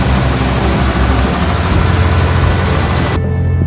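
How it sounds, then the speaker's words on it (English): A Massey Ferguson 1135 tractor idles loud and close, a steady low diesel rumble that holds unchanged for about three seconds before cutting off abruptly. "So we're running our trusty 1135 Massey tractor here"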